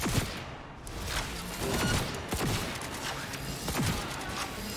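Gunfire from the video game Cyberpunk 2077 during a gig mission: a dense burst of sharp shots cracks in quick succession, followed by scattered single reports over a steady, noisy in-game background.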